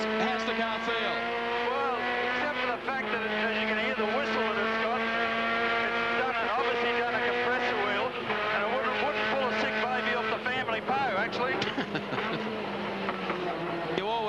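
A Nissan Skyline GT-R race car at the 1990 Bathurst 1000 motor race runs with a steady engine drone and a high turbo whistle riding over it, continuous and fairly distant beneath commentators' talk.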